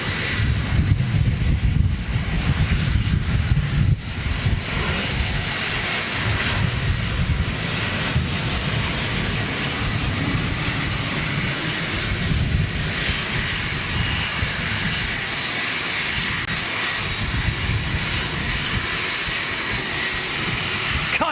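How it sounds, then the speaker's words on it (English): A jet airliner's engines roar steadily and loudly for a long stretch, a broad rumbling hiss with wind buffeting the microphone. "I love the sound of a jet engine in any position"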